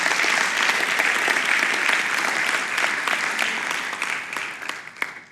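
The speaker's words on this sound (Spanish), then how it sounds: "Dale un aplauso al Señor." Steady, dense applause from a church congregation during a Spanish-language sermon, loud and sustained before thinning slightly toward the end.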